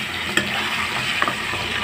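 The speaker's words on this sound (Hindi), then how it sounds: "लहसुन ऐड करके मैं इसको थोड़ा सा भूनूंगी।" Garlic frying in a pan for restaurant-style chicken palak, a steady close sizzle with a couple of soft stirring knocks.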